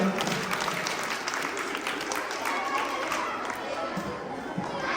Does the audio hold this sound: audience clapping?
yes